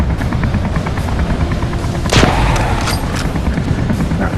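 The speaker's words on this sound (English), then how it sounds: "waiting for the exploding zombie to come into view and blow it up" A zombie blows up in the game ZombiU, a single loud boom bursting out of a dense bed of steady game noise and then trailing off.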